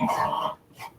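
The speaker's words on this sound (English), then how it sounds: "I didn't hear that because my dogs were barking in the background" A dog gives a single gruff bark up close, followed by a shorter softer yip after a brief pause.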